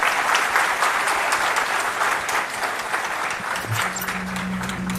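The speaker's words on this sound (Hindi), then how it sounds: "पुनः जोरदार तालियां" Loud applause from a crowd at a government event where the Chhattisgarh chief minister transfers funds to young beneficiaries, steady sustained clapping with no talk over it, tapering slightly toward the end as a low hum enters.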